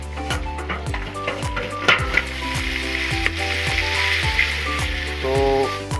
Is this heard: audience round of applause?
no